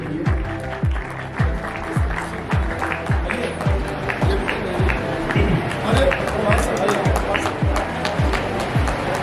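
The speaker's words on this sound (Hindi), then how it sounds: "पूरी सदन तालियां इसकी जोर से गूंजनी चाहिए" An audience at a Hindi poetry gathering and award ceremony claps in a regular, rhythmic beat, many hands striking together in near unison, loud and close, with faint crowd murmur beneath.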